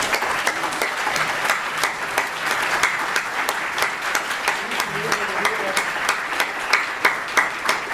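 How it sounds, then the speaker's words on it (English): A dinner crowd applauds survivors, a loud, sustained round of many hands clapping with individual sharp claps standing out in an uneven rhythm. "give them a round of applause."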